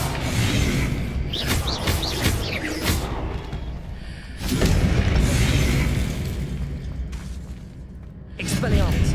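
Confringo blasting-spell explosions in the Hogwarts Legacy video game, with loud booming bursts at intervals amid crackling combat effects while a voice speaks over the action.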